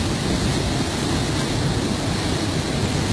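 A river torrent in flood during a huaico mudflow in Peru, a dense, steady roar of churning water that fills the whole clip, loud and close with no pauses.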